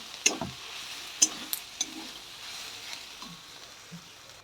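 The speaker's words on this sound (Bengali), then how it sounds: "সেগুলো ভালো করে মিশিয়ে নেব ছাতুর সাথে।" Coriander powder is stirred into a sattu mixture with a spoon, giving a few soft scrapes and light taps against the vessel, close and fairly quiet over a faint steady background hiss.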